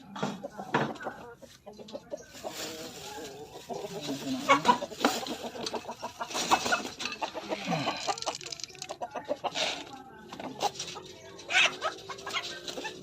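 Several chickens cluck and squawk loudly and continuously nearby, with busy overlapping calls and some rustling throughout.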